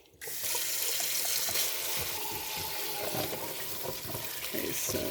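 A kitchen tap runs steadily as fresh green beans are rinsed in the sink, a loud continuous water rush with light splashing throughout.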